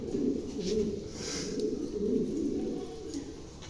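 A pair of female Maltese pigeons at a pigeon farm cooing in soft, low, rolling bursts, close by and continuous, with a faint chirp partway through.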